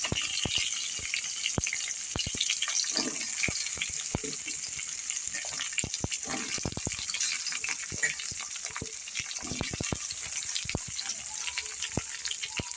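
Fish sizzles steadily in hot oil in a pan with black cumin seeds and slit green chillies, a continuous loud crackle dotted with small pops and clinks.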